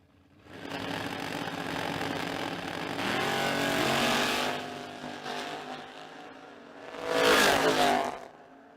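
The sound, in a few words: Mustang and Opel drag racing down the track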